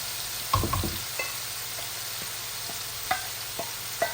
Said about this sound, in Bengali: এটা ভালো করে আমি ভেজে নিচ্ছি।